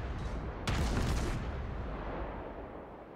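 Naval gunfire from a Cleveland cruiser in World of Warships: one loud, booming salvo with a sharp onset, tailing off into a low rumble over steady background noise.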